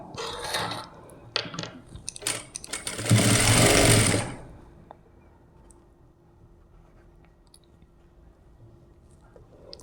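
A sewing machine stitches the hand joint of a blouse in a close, loud burst of rapid whirring lasting about a second, followed by quieter handling and faint mechanical clicks.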